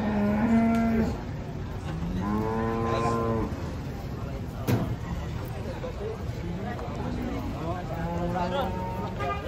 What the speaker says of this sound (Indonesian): Kaget sapi nih.